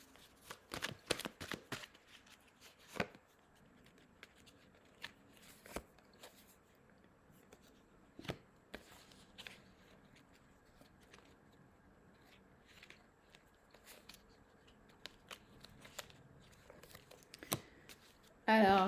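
Playing cards shuffled and dealt into three piles on a table, a flurry of riffling at the start followed by scattered soft snaps and taps, quiet and close.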